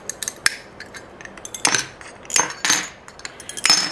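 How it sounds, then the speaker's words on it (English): Mosaic glass sheets being cut into workable pieces, heard as a few sharp, close snaps and clinks spaced irregularly over faint background quiet, with no talking. "Make sure you have safety glasses on when you are cutting your glass."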